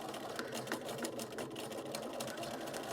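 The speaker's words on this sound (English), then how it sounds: "now I'm just going to get as close as possible and back stitch at the beginning and the end." A sewing machine back stitches a zipper pouch seam, running in a fast, steady mechanical stitching rhythm close by, quiet and continuous with no voices.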